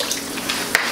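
Seafood boil stock from crabs and shrimp is poured into a gumbo pot, a brief close splashing gush of liquid with a small spike near the end.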